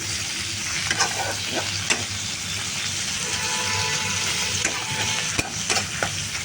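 Ripe jackfruit pulp frying in a pan with ground cumin and coriander, a continuous loud sizzle with scraping stirs throughout.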